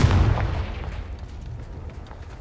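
Confringo fire spell blast in Hogwarts Legacy, a single booming burst at the start that rolls off into a fading rumble and crackle, close and alone without talk.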